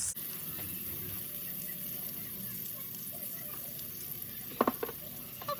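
Onion and garlic sizzling in a pan for rajas con crema, a soft steady frying hiss close by with a few faint clatters near the end, no voices.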